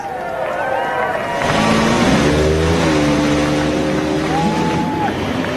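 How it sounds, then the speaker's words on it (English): A field of IndyCar race cars fires up at the 2013 Toronto street race, engines roaring together and revving in rising and falling whines, loud and sustained over crowd noise. "Drivers, start your engines."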